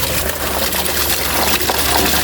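Water gushes hard like a waterfall, a steady, loud rushing stream of liquid with continuous splashing and no talk over it.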